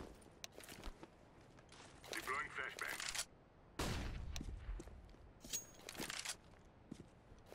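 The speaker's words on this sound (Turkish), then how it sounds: "Mid'den vurdu herhalde." Gunfire in a competitive shooter game sounds as scattered sharp shots and short bursts, fairly quiet and mixed with footsteps, while players talk over it.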